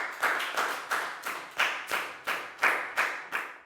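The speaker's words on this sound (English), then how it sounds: "So big round of applause together one more time." Students in a classroom clap together in unison, regular sharp claps about three per second, moderately loud and close, with no voices over them.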